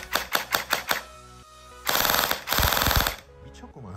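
A CYMA Glock 18C electric airsoft pistol fires full auto in loud bursts: a quick run of separate rapid shots, a brief pause, then two long sustained buzzing volleys close to the microphone.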